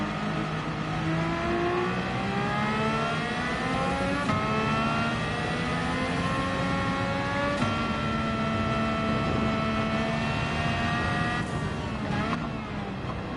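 A race car engine in a racing video game revs and accelerates continuously through repeated gear changes, pitch climbing then dropping at each shift, loud and steady throughout.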